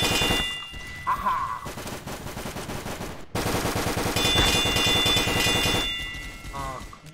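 Rapid bursts of paintball gunfire in the video game Mad Paintball 2, fast rattling volleys with a short break in the middle, loud and continuous under game sounds.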